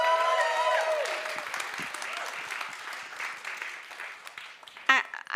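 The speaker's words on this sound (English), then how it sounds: "Give her a round of applause." An audience claps in welcome as a speaker comes on stage at a Sundance food event, steady applause that gradually thins and fades, with a brief voice near the end.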